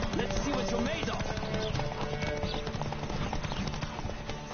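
Hooves of a horse galloping in a race in The Witcher video game clop in a fast, loud, continuous rhythm, with game music and a voice shouting over the hoofbeats.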